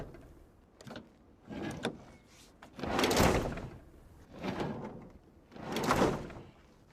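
A door in a quiet interior opens and closes with several soft thuds and sliding, creaking movements spaced a second or two apart, moderately close with no talking.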